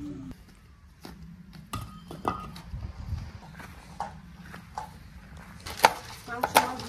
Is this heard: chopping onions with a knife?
yes